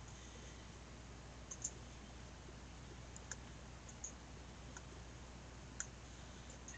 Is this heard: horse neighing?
no